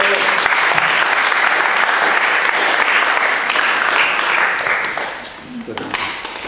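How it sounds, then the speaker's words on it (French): Sustained loud audience applause from a crowd at an evening Torah lecture event, dense and continuous, tapering slightly near the end. "On l'applaudit très fort."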